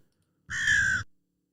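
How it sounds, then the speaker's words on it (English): A crow caws once, a single loud harsh call about half a second long with silence before and after, a one-shot sound effect from a tabletop role-playing ambience app. "For example, the crow sounds like this."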